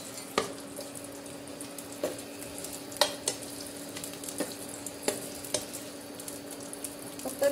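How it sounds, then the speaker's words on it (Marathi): Potatoes shallow-fry in oil, giving a quiet, even sizzle broken by sharp pops and spatters every second or so. "आपल्याला तेलात फक्त शॅलो फ्राय करून घ्यायचे"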